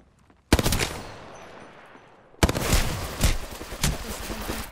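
Automatic gunfire in the video game Apex Legends comes in two loud rapid bursts, the first fading into a long reverberant tail before the second, longer volley crackles on.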